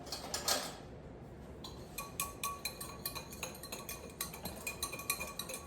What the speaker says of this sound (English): Whisking it up, getting rid of any clumps.